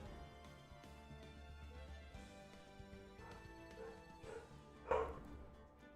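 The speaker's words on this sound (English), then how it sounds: "Sorry about the barking as well." A dog barks faintly in the background of a quiet indoor room, with a few soft barks and one sharper, louder bark near the end.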